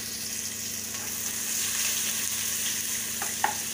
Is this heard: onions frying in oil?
yes